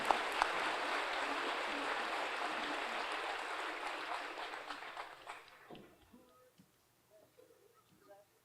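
An audience at an Army basic training graduation ceremony applauds in a dense, sustained burst of clapping that fades out after about five seconds, leaving scattered faint sounds.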